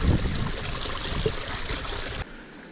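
Stream water flowing at a wild camp on the Skye Trail, a steady trickling and babbling wash with a few louder splashes early on, close by, dropping off suddenly near the end.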